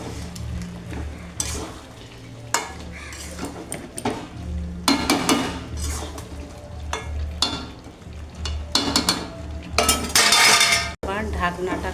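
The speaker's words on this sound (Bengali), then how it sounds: "এটাকে আমি আবার ভালো করে নাড়ব" Chicken curry stirred in a pan on a gas flame, with a utensil scraping and clattering against the metal in repeated bursts over a low steady cooking hiss, fairly close, with no talking.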